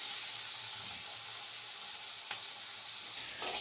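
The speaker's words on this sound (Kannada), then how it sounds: "ಈಗ ಫ್ರೈ ಆಗಿದೆಯಲ್ಲ, ಗೋಲ್ಡನ್ ಬ್ರೌನ್ ಬರೋ ತನಕ ಫ್ರೈ ಆಗಬೇಕು." Food sizzling steadily in a hot pan as it fries toward golden brown, a constant close hiss with a small clink partway through and no talking.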